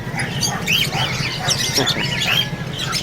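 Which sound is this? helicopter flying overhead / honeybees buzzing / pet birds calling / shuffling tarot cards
pet birds calling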